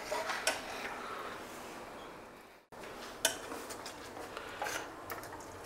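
Chop masala fries in a pan over a low gas flame, a spoon clinking and scraping against the metal in uneven bursts over a soft, quiet sizzle.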